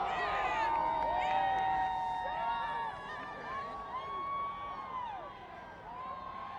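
Large outdoor crowd at the Michigan national championship parade, a steady wash of cheering, whooping and shouting voices that swells and fades across the clip.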